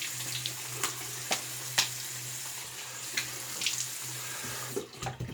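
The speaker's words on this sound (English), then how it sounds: "Let's rinse the alum off." Cold tap water runs steadily into a sink to rinse alum off a freshly shaved face, a continuous splashing hiss broken by a few brief sharper splashes near the end, with no talking.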